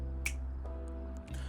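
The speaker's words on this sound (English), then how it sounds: "your fingers are clapping, they're clicking together" A finger snap emote in the video game Final Fantasy XIV: one crisp, sharp snap near the start, with a few faint clicks over a steady low hum.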